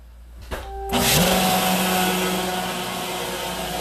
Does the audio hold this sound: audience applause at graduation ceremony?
no